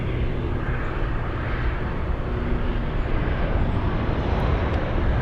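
A Cathay Pacific airliner taxis toward the runway for takeoff, its engines producing a steady, moderately loud rumbling drone with a low hum that stays even from start to finish.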